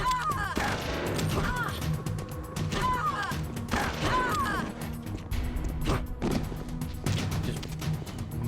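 Video game gunfire from Metal Gear Solid: The Twin Snakes, with rapid bursts of shots and crashing impacts at a loud, steady level, mixed with game sounds and occasional voices.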